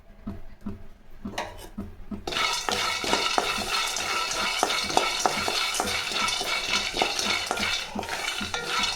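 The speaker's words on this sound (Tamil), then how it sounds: "கலகா கொட்டைங்க, இதையும் வறுத்து எடுத்துக்கலாம்." Seeds dry-roasting in a pan for idli podi, a few light taps and then a sudden, dense rattling as a spoon keeps stirring the dry seeds against the metal, close and steady to the end.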